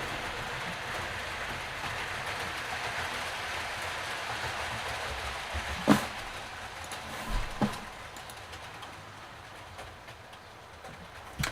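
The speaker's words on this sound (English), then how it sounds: "train seems to be running well" A model train runs along its track with a continuous low rolling rumble, a few sharp clicks and knocks around the middle, fairly quiet and without talk.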